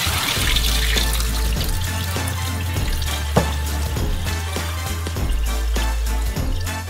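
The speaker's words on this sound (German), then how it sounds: "Nach 15 Minuten das stärkehaltige Wasser abgießen." Starchy water pours off soaked potato sticks into a sink, a steady close splashing trickle with scattered drips and light knocks.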